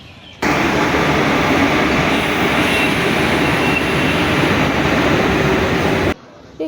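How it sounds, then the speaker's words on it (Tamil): A train passes at a railway station, a loud, continuous roar and rumble that holds steady for about six seconds before cutting off. "நம்ம பாட்டி ட்ரெயினில் வருதா பாரு"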